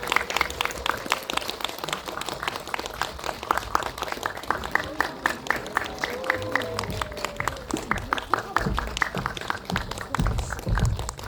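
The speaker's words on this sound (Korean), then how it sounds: "큰 박수로 맞이해 주시기 바랍니다." A theater audience claps steadily to welcome two actors and two film directors onto the stage at a Korean film screening event. The dense, continuous applause runs the whole time with a faint voice underneath.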